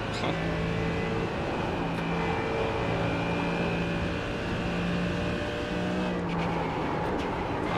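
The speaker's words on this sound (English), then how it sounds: "God, if only I could actually pin the throttle through there with this damaged car" A damaged race car engine drones in an iRacing simulation, a loud, steady, close whine with sustained tonal hum and a brief rise in noise near the end, without speech.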